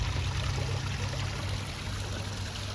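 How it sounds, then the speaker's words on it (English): A koi pond waterfall running through two tempests and a Bakki shower, making a steady, even rush and splash of falling water, close and continuous with a low rumble underneath. "So the waterfall running through 2 tempests and a Baki shower."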